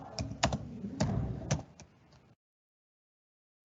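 Someone types a file name on a computer keyboard, a quick burst of about a dozen close, sharp key clicks over two seconds, followed by silence.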